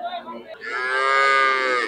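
A cow lets out a single long, loud moo that swells and holds for over a second, close by, after a brief murmur, at a cattle market.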